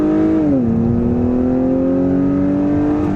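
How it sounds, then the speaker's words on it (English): A 2021 Acura TLX's 2-liter turbocharged four-cylinder engine, with a sound enhancer, pulls hard and steadily, its tone dipping briefly before rising as it accelerates, close and loud with no talk. "Good sound from both the sound enhancer and this 2-liter turbocharged 4-cylinder engine."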